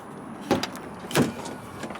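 Powered running boards on a 12-valve Cummins truck deploy as the door opens, giving two distinct mechanical thunks with a faint motor whir, close by against steady background noise.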